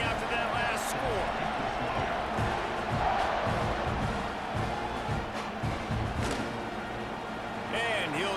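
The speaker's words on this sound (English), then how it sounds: "this crowd is buzzing after that last score" Stadium crowd in the College Football 26 video game, a continuous buzzing murmur with occasional louder swells and thuds, heard under a commentator's steady talk.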